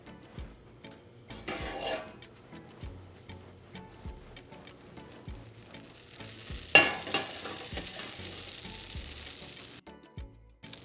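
Salmon pieces fry in a pan of oil and butter, sizzling steadily close up while a utensil stirs and taps against the pan with sharp intermittent knocks; the sizzle swells louder partway through.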